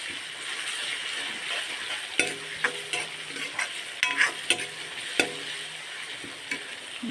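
Ginger and garlic paste frying in a pan for an Assamese-style mutton gravy, a steady close sizzle broken by several sharp stirring clacks and scrapes of a spoon against the pan.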